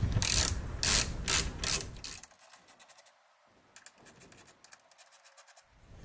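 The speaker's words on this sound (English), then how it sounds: "What you're going to need is a 10mm socket wrench." A 10 mm socket wrench ratchets while loosening radiator support brackets on a 2015-2018 Mustang: loud rapid clicking bursts at first, then quieter, intermittent ratcheting clicks close by, with no talking.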